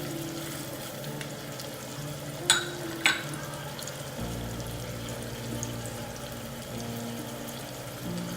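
Undhiyu, a mixed vegetable dish, sizzling gently in a pan as spices are stirred in, a soft steady frying hiss with two quick scraping clinks of a spoon, then a lower bubbling sizzle, quiet and close.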